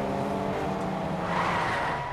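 A car in a video game screeching its tires in a sustained skid while the engine roars, loud and continuous throughout, with no talking.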